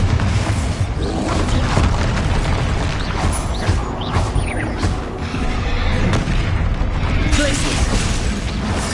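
Spell explosions from Confringo and Bombarda casts in Hogwarts Legacy, a dense run of loud booming blasts and crashing bursts layered with rumbling game effects, with a voice calling out spell names over the chaos.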